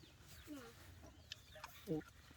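Chickens clucking and calling at close range, a few short bursts over steady background noise, with one louder cluck near the end.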